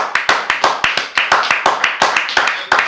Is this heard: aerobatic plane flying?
no